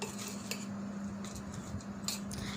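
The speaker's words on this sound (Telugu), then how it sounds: "ఈ విధంగా మొత్తం అంతా మష్రూమ్స్ రైస్ మిక్స్ అయ్యేటట్టుగా కలుపుకోండి" Spoon turning mushroom biryani rice gently in a pot, with soft scraping and a few light clinks of metal against the pot over a steady low hum.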